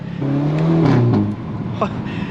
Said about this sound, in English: we'll get some sound clips of the exhaust too